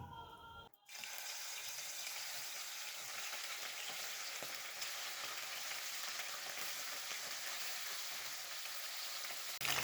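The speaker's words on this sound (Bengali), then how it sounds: "গ্যাসটাকে হাই ফ্লেমে রেখে 4 থেকে 5 মিনিট মাছগুলো ভেজে নেব" Bata fish frying in three tablespoons of mustard oil in a kadai on high flame, starting with a brief gap, then a loud, continuous hissing sizzle that stays steady and close, with no voices.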